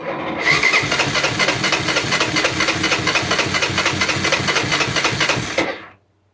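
An abandoned Honda Fortrax ATV engine cranks over steadily on the starter, a loud, fast, rhythmic churning that runs for several seconds without catching before cutting off.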